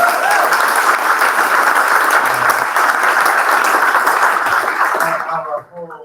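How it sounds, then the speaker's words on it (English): Audience applause at a social justice tech demo day, loud and sustained dense clapping from a crowd for about five seconds before it quickly dies away. "Let's give a round of applause."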